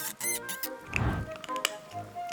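A toy guinea pig gives off a few short, high squeaks and patters close by, amid soft background sounds, with no talking over it.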